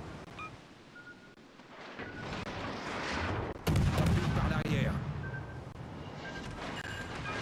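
Ship guns boom in the World of Warships naval game, a heavy burst of artillery fire rising to a loud, rumbling blast midway and then rolling on with a sustained roar and echoing tail, played alone.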